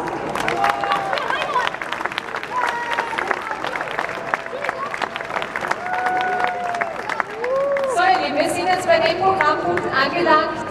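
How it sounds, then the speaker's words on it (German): Audience at an outdoor rally in Graz clapping and cheering, sustained applause mixed with crowd chatter and voices, growing louder and fuller toward the end. "Applaus."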